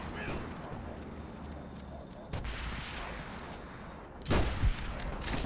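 Gunfire in the Call of Duty: World at War video game, with a Mosin rifle in play, heard as sharp reports around the middle and a heavier double burst near the end over a constant rumbling battlefield din.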